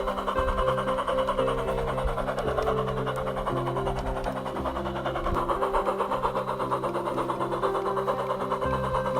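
A steam locomotive, Thomas the Tank Engine, runs steadily along the line with a continuous loud mechanical chugging and rattling rumble that stays even throughout and has no voices over it.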